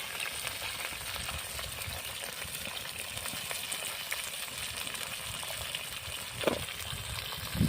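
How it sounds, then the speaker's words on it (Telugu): Onions fry in hot oil, giving a steady dense crackle and sizzle throughout, with a couple of brief louder stirring clinks near the end. "చిట్టపట్లాడేస్తూ ఉంది నూనె అయితే"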